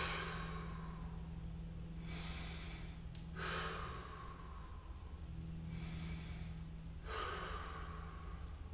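Deep, slow breaths are taken during a mobility exercise, with about three audible inhales and exhales spaced a few seconds apart over a low, steady background hum.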